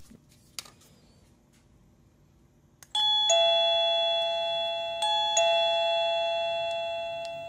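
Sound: doorbell ringing, triggered to capture its code

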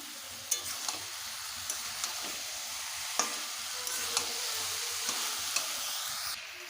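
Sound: frying spices with fried fish heads for cabbage ghonto

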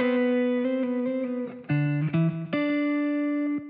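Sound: electric guitar with psych delay effect in Guitar Rig

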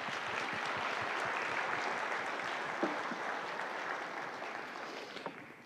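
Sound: congregation applauding in church

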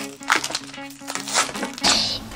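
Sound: crinkling of a plastic packet being opened

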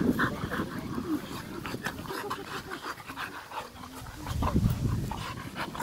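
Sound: American Staffordshire Terriers playing, panting

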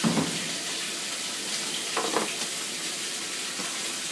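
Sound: washing machine running with water and soap

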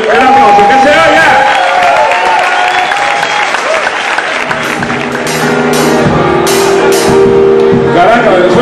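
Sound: audience applause at a live concert

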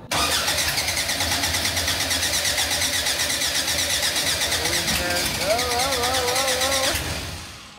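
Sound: car engine starting

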